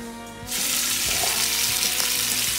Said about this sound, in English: put it in this bacon fat. Ooh, you already hear it sizzling